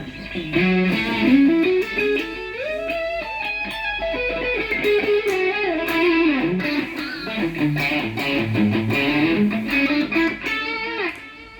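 Electric guitar solo played through a Line 6 POD X3 Live with a delay effect, sustained melodic lead lines with trailing echoes over a continuous, fairly loud tone.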